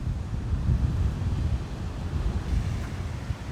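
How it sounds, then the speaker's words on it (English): Large waves crash and surge against a volcanic coastline on Terceira, a heavy, rumbling roar mixed with strong wind buffeting the microphone. "we found a spot where even bigger waves might show up"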